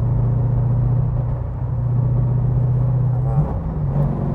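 Subaru BRZ with an LS3 V8 swap idling, a steady deep rumble with a muffled, subdued exhaust tone and a slight blip near the end, close by.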